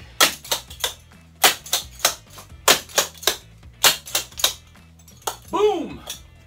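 Clogging dance steps at a basic lesson: a fast run of sharp, bright taps and chugs on a hard floor, falling in quick rhythmic clusters over a low instructional voice and light music.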